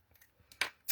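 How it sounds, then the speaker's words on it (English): Scissors cut paper for a handmade wedding card in a couple of quick, faint snips, heard close up with no talking. "I just kind of wiggle my scissors around there"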